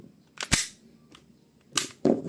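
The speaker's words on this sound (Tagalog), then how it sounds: "So, round 2 firing. Okay. So, 5 shots." WE G17 replica pistol firing: a few sharp, snappy cap-gun-like pops heard close by, one near the start and two more in quick succession toward the end, with faint handling noise between them.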